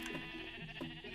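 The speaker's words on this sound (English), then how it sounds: "Like a fully functioning sheep farm." Sheep bleating on a sheep farm in Minecraft, a few short wavering calls spaced across a steady game soundscape, close and moderately loud.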